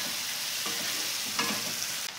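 Carrot and capsicum fry with salt and chopped green chilli in a pan, a soft steady sizzle broken by a few light scraping stirs, close and fairly quiet.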